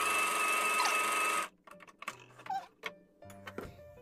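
A Brother sewing machine runs zigzag stitches in a steady, loud mechanical whir for about a second and a half, then stops, followed by scattered faint clicks and handling taps.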